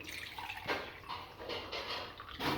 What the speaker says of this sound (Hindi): तो ये मैं 2 गिलास के करीब पानी डाल दूँगी